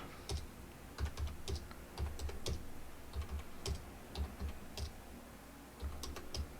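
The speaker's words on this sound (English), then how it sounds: "This is me pounding on my keyboard." Steady typing on a computer keyboard, close and clear, with quick irregular clusters of key clacks and thumps and no voices.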